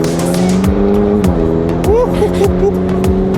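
Methanol-tuned supercar accelerating hard, engine revs climbing and dropping through quick gear changes, loud and close from inside the cabin, with brief voices under the engine.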